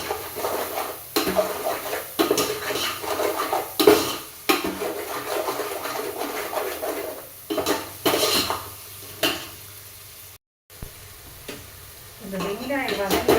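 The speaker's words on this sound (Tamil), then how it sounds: "நல்லா வெங்காயம் வதக்கணும்." Onions sautéing with salt in a pan for vegetable biryani: a spoon scrapes and clatters against the metal over a low sizzle, in irregular bursts with short pauses and one brief dropout.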